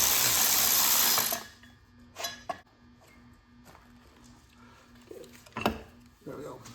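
Metal tools clink and ratchet while a transmission is pulled from a turbocharged Chevrolet Cavalier during a clutch upgrade. Sharp taps and clicks come in scattered bursts after a brief burst of loud noise at the start.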